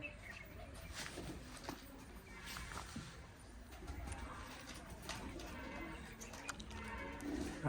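Pigeons coo softly and repeatedly while being fed grain, faint and somewhat distant against a steady outdoor background hiss.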